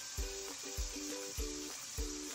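Spices roasting for chhole sizzle in a hot pan, with a steady frying hiss broken by four evenly spaced low thumps and clatters from stirring, close and moderately loud.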